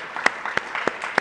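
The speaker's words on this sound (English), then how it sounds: "I think you deserve a round of applause for being here." A few sharp hand claps land at a steady, slow pace, about four in just over a second, from the audience at a medical advocacy keynote talk. Nobody speaks.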